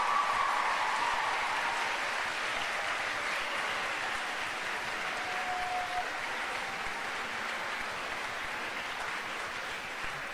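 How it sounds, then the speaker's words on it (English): A large school assembly crowd at a Chinese New Year event applauds its head students, a steady wash of many hands clapping that holds evenly for ten seconds at moderate level without voices on top. "can I please ask all of you to give them a round of applause for absolutely amazing work they have done"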